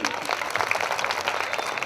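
Church congregation clapping loudly together, a dense, steady patter of many hands close by that carries on without pause, with a voice faintly mixed in.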